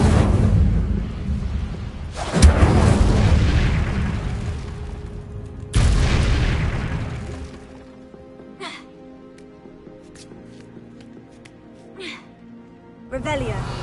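In the video game Hogwarts Legacy, the Incendio fire spell is cast with two loud fiery bursts a few seconds apart, followed by quieter magical shimmering and a chime-like swell.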